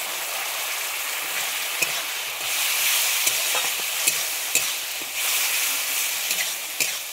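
Ground tomato frying in spice masala for egg curry, a bright continuous sizzle that swells partway through, broken by sharp clicks and scrapes of a spatula stirring the pan.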